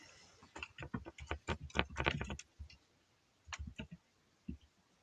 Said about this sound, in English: Noisy keyboard.